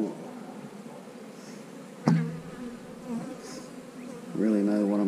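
Honeybees buzz inside an opened wintered eight-frame hive box, a steady close hum with a sharp knock or bump midway and brighter, louder buzzing toward the end.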